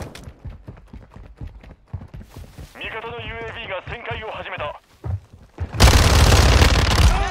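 In Call of Duty MWII, gunfire clatters in rapid bursts and a loud Semtex grenade explosion erupts near the end, with a player talking over the action.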